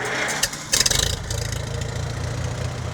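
A 1951 Farmall M tractor engine starts with a few sputtering chugs, then settles into a steady, close, loud low idle with a rhythmic thump.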